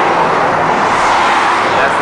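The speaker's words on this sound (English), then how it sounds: "You might hear some traffic behind me." Steady roar of road traffic on Highway 95 heading into Moscow, a continuous broadband wash of passing vehicles with no distinct single pass and no voices.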